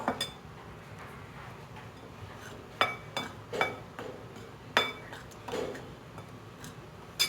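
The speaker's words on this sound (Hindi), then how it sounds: "अब इस बैटर को मैं अच्छी तरह से मिक्स कर लूँगी।" A utensil stirs eggless cake batter in a bowl, making faint irregular clinks and taps against the sides, several sharper knocks standing out over a quiet kitchen background.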